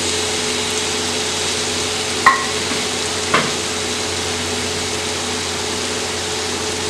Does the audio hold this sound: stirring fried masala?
yes